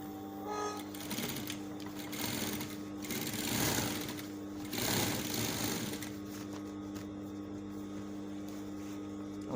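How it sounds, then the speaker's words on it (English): Sewing machine running steadily as it stitches along the edge of a pocket flap, a continuous close motor whir with slight swells in speed and no talk. "So we'll now sew it on the edge here"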